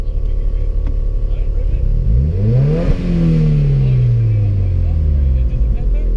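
A Subaru WRX fitted with a Tomei catback exhaust revs hard and loud up close, its note climbing to a peak and then sliding back down over a steady rumbling idle.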